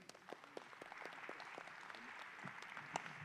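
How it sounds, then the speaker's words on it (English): Membership-meeting audience applauding speakers onstage, a soft, distant patter of scattered claps from a modest crowd, steady and faint throughout. "Join me in giving a round of applause to our speakers here."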